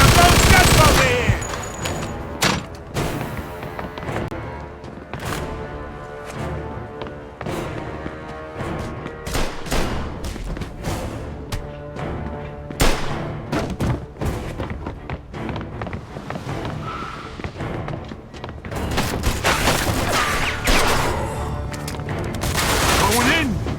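Heavy gunfire in the Mafia II video game: rapid machine-gun bursts and single shots crack almost nonstop, loud and dense, with booming impacts and shouted voices mixed in.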